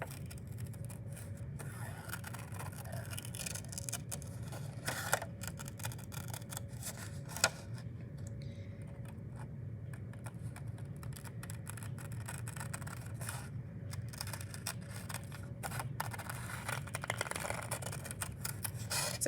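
Scissors snip through paper along a traced drawing, a run of quiet, close crisp cuts and slides with small pauses between strokes, no speech.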